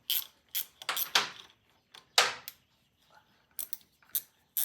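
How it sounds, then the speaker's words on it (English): Close metallic clicks, ratcheting and creaks come in short bursts as the clutch hub on a Triumph T100 gearbox is worked loose, with quiet gaps between the strikes. "we're getting ready to break that clutch hub loose"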